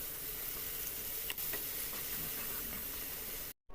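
Onions, chillies, ginger and turmeric fry in a pan for egg curry, a steady loud sizzle with a couple of brief stirring scrapes, ending abruptly.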